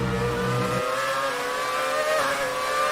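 Formula One racing cars in the F1 2019 video game, a McLaren and a Braun, screaming at high revs on track, a loud sustained engine whine with a low rumble dropping away partway through.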